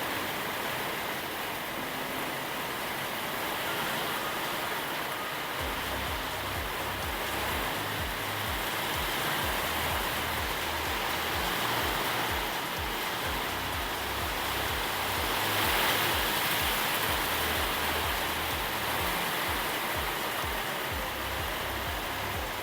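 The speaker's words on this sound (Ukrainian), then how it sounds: "Дощ серйозний." Heavy rain pours in a loud, continuous roar with gusty swells blowing onto a terrace, joined partway through by a low rumbling rhythm underneath.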